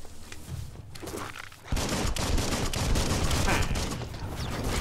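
Gunfire in the action video game Biomutant, a quieter stretch with scattered shots giving way to dense, continuous rattling bursts mixed with footsteps and game ambience, fairly loud and close.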